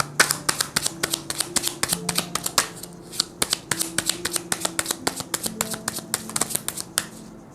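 Tarot cards being handled and drawn from a deck, giving a dense run of crisp, close slaps and flicks in quick irregular succession, with faint tonal hum beneath.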